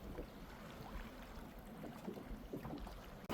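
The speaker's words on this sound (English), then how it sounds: "Pulling up alongside the dry bag, scooping it up, put it in the dinghy" Dinghy pulling up alongside a floating dry bag on open water, faint lapping and sloshing with wind buffeting the microphone, quiet and continuous with a brief knock at the end.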